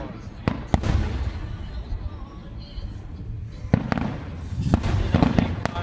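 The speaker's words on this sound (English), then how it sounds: "Those things are loud." Firework boxes explode in sharp loud bangs, several separate cracks spread over a few seconds with a rumbling wash between them. A voice is heard nearby.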